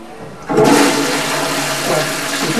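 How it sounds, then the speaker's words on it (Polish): A toilet flushing just after being repaired, starting quietly then surging into a loud, sustained rush of water and gurgling close by, with no talk. "Woda się spuszcza, no. Działa."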